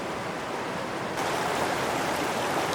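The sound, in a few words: creek water flowing, fork of Alder Creek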